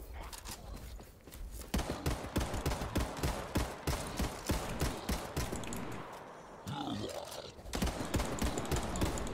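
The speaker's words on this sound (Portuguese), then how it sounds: "Tem tiro aqui também." Rapid bursts of gunfire in the video game Hawked crackle over one another, mixed with thuds and scuffling, and a voice talks now and then.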